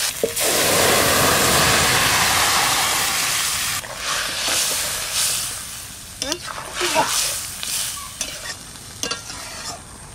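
Curry poured into hot oil tempered with ground cumin, village-style fish curry cooking, sets off a loud, broad sizzle that slowly dies down, followed by stirring scrapes and clinks as a voice speaks.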